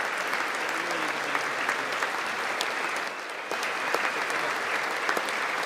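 Sustained applause from the audience at the State of the Union address, a steady distant roar of clapping in a large chamber with a brief dip midway, faint voices underneath.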